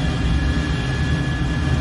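An F-14 Tomcat's jet engines in cruising flight in a flight simulator, a loud, continuous low roar with a steady high whine on top and no voices.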